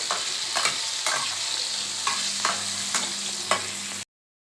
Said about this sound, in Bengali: আলুটা আমি পুরোপুরি ভালো করে ভেজে নেবো